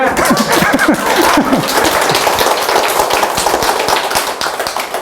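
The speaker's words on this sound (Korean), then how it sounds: "박수는 이럴 때 쳐야지" A lecture audience at a Buddhist temple breaks into dense, sustained applause, loud and close, with some scattered chuckles mixed in throughout.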